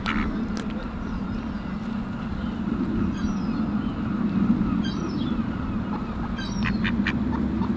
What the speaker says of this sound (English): There's a duck behind you.